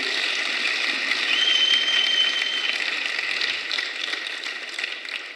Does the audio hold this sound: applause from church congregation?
yes